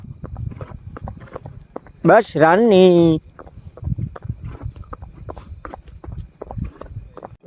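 A mare walks along at night, her hooves clip-clopping in a steady close rhythm; a person speaks briefly over the steps, and a short whinny or voiced call rises in the middle.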